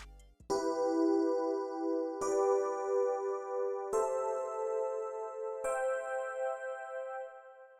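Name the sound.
triad chords played on a keyboard, pluggnb tutorial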